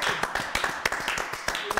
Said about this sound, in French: on va applaudir pour John Badaï d'abord.